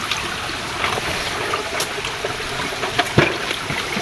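Small stream of water trickling and gurgling over the ground, soft and continuous with a few brief splashes and knocks near the end, no talking.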